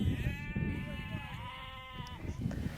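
Sheep bleat in a pen during a long day of shearing work in the Falklands, one drawn-out wavering bleat close by over a busy background of other animal noise and faint talk.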